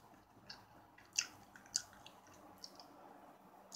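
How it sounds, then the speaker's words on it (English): Sour bubblegum is chewed close to the mic, giving soft wet smacks and a few sharper clicks at an irregular pace against a quiet background. "I think I'm just chewing gum."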